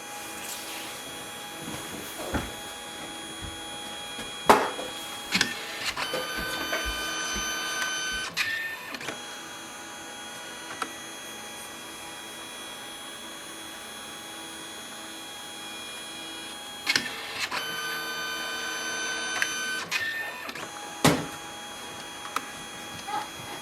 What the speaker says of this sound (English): you might see another color, so one by one it prints all the colors.